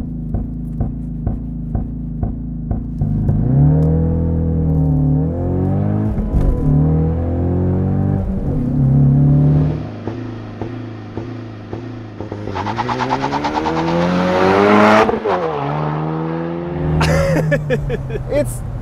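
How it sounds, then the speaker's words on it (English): A 2023 Ford Mustang EcoBoost convertible with the 2.3-liter high performance engine and launch control revs and accelerates close by, its tone rising and falling through repeated pulls, with a sharp burst near the end. "Mustang EcoBoost convertible with launch control."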